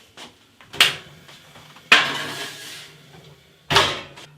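Metal clanks and knocks sound as a tray of vegan sausage rolls goes into the oven: three sharp bangs spread over a few seconds, close by and separated by quiet gaps.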